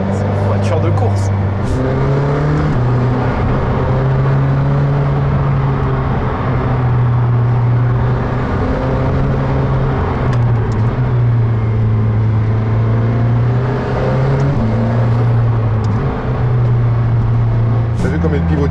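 An 800 hp McLaren Senna race-bred road car's engine drones loudly and close, its pitch rising and dropping through several shifts, with people talking over it.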